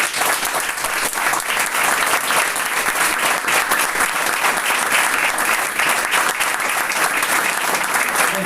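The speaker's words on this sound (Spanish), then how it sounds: "Dale un fuerte aplauso al Señor" Strong, sustained applause from a church congregation fills the room at a service, dense and steady from start to finish with no voices rising above it.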